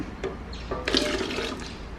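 Leftover water from rinsing a mixer jar is poured out in a short splashing gush, with a brief trickle before a louder pour that tails off, heard close up with no one talking.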